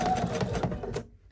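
A sewing machine stitches together rows of a beginner peekaboo quilt, a fast, close mechanical whir of rapid needle strokes that runs for about a second and then stops.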